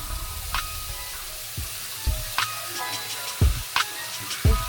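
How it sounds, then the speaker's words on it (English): Meatballs frying in oil in a pot for meatballs in onion gravy, a steady low sizzle broken by several soft thuds and clatters of stirring, with no talk. "I'm putting some oil inside of the pot and throwing the meatballs in there so they can fry up a little bit"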